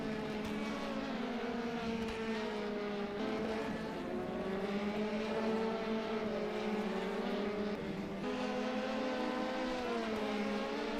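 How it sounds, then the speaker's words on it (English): LMP2 race cars pull onto the circuit in a racing video game, with several engines droning together in a steady layered whine that rises and shifts in pitch as they run continuously. "as the LMP2s now come out onto the circuit for the first time."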